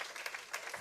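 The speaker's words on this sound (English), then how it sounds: "Clap it up for me." A comedy club audience breaks into brief, dense applause, a short burst of many hands clapping together.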